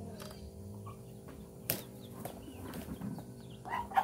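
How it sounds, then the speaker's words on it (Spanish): Chickens released from their enclosure flap their wings in a short rustling burst, with faint clucks and farmyard movement nearby at low volume. "por acá les voy a sacar las gallinas que las tengo encerradas"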